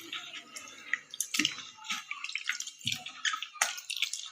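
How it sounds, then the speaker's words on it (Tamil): Tamarind being squeezed and dissolved by hand in water for a South Indian fish curry, close wet squelching, sloshing and dripping in irregular bursts. "நல்லா புளியை கரைச்சி விட்டுக்கோங்க"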